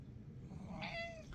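A pet cat lets out a single drawn-out meow, fairly close and clear, over a steady low background hum.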